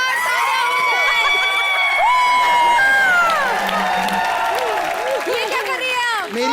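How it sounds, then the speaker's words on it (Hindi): Loud studio audience at a Hindi comedy show clapping and cheering, with whoops and shouts mixed in and voices talking over the noisy crowd. "जोरदार तालियां हो जाए।"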